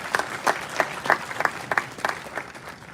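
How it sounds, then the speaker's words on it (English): Audience applause at a conference session on agentic AI and the future of work, a steady patter of clapping hands with sharper bursts rising and fading across the clip, moderately loud and without voices over it. "give them all a big round of applause"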